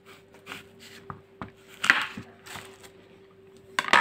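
A knife cuts through a crunchy Severny Sinap apple, with several crisp, irregular crunches and snaps close up.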